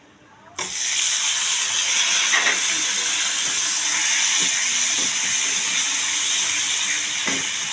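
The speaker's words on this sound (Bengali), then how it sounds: "আমি দিয়ে দেবো মৌরি বাটাটা।" Fennel paste hits hot oil already frying cumin, dried red chilli and bay leaf for a biuli dal. A sudden loud sizzle bursts in after a brief quiet and holds as a steady, close hiss with occasional pops.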